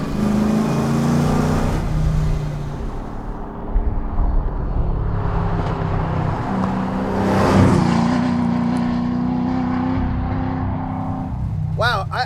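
A 1973 Ford Mustang restomod is driven hard on a road, its engine droning steadily and loudly up close throughout, with pitch rising and falling through gear changes and a brief burst of sharp noise near the end.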